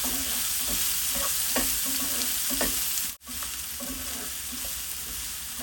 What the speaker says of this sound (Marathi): यात आपण बारीक चिरलेला कांदा घालूया। हा आपण परतून घेऊया।